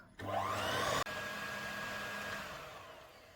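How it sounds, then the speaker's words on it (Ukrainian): Electric hand mixer whirring at medium speed through milk, eggs and oil for a sweet tea-time bake, a loud steady buzz with a brief cut and restart, then a slightly quieter even hum. "Всі ці продукти додаємо по черзі і взбиваємо на середніх обертах"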